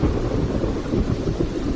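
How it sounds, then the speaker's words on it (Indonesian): Deep thunder rumbles continuously in a mountain setting on Semeru, a low broadband roar that fills the whole stretch without pause, with a hint of rain noise mixed in and no voices. "Nampak langit bergemuruh seperti akan turun hujan."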